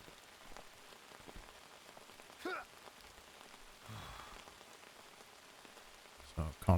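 Rain falling steadily in the video game Outbound, a soft continuous patter with scattered heavier drops and a few brief louder bumps, with a voice faintly in the mix.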